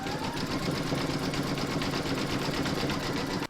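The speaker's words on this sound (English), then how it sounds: "You're now going to stitch round number 4, and that's going to do the zigzagging down the centre here" An embroidery machine stitches a zigzag down the centre of an in-the-hoop yin-yang coaster, a loud, steady, rapid mechanical chatter that runs without a break.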